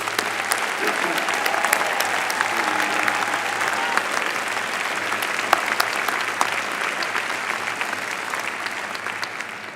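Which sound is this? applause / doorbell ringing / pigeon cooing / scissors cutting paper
applause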